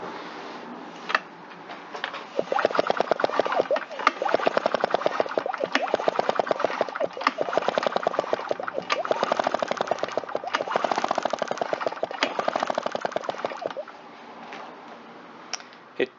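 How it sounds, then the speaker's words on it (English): A Husqvarna 350 chainsaw engine is cranked by its pull starter in a long run of fast rapid chugging pulses without firing, close and fairly loud, ending in quieter handling noise. "it takes a lot of engine cranking speed to get a spark out of it"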